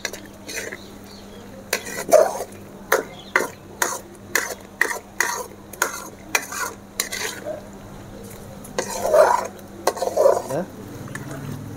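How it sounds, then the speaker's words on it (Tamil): Tomatoes are tipped into hot oil in a pan for an egg kuzhi paniyaram gravy and stirred. Rhythmic spoon scrapes and knocks against the pan ring out over a faint sizzle, close and fairly quiet. "இந்த நேரத்தில் நம்ம வச்சுருக்க அந்த தக்காளியை கொட்டிக்கலாம்"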